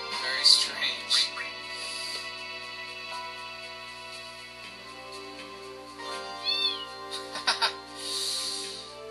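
Cat meowing in the video game Final Fantasy VIII, a few short meows at moderate level over steady game music and ambience.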